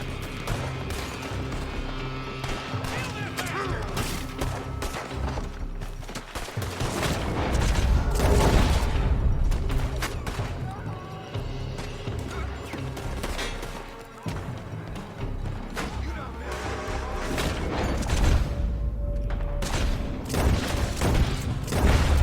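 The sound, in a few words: gunfire from a building in a video game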